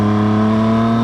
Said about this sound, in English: I love shifting this bike too with the quick shifter.